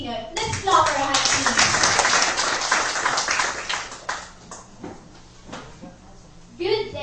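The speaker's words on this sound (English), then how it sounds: "Let's clap our hands" A class in a school debate claps together in a burst of applause that rises quickly and holds for a few seconds, then thins into scattered claps and fades. Voices can be heard under the clapping.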